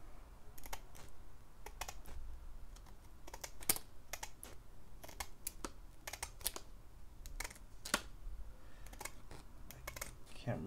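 A CGC graded slab case being cut open with care, producing repeated sharp plastic clicks and snips at irregular intervals against a low background hum, close and moderately quiet.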